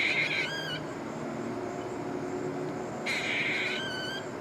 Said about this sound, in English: A newborn bird crying for food.